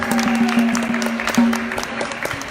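An audience claps steadily at a fundraising lecture in Toronto, a dense patter of many hands with a faint sustained tone running underneath.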